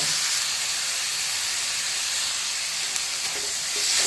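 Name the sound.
tomatoes and ginger sizzling in pan with fried onions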